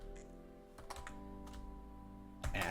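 Computer keyboard keys click in sparse, uneven taps while a MySQL command is typed at a Linux prompt, a quick cluster near the end, close and soft over a low electrical hum, no voices.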